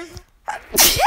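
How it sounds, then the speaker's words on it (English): A single close, sharp sneeze with a quick intake of breath before the burst. "I'm trying as much as possible to catch my sneezes"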